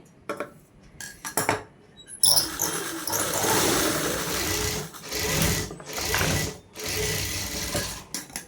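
A sewing machine stitches fabric in a home tailoring setting, running in steady bursts from about two seconds on, with brief pauses between runs and lighter clicks before it starts.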